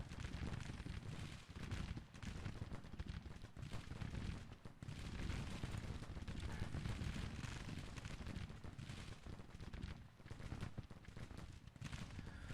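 Artillery booms and rifle volleys from a Grand Tactician Civil War battle game roar without pause, a dense, loud wash of gunfire with heavier blasts rolling through it.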